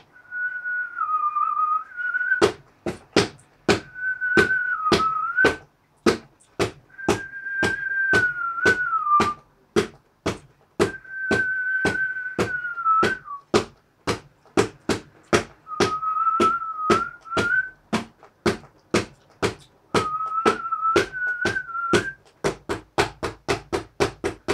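A clear whistled melody in several phrases with pauses, set against a steady, sharp percussive tapping that quickens at the end.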